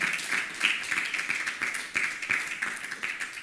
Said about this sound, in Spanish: Alguien que le dé un aplauso al Señor en esta noche